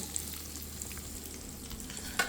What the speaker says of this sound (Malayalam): ഇത്തിരി കടവ് പൊട്ടിക്കുക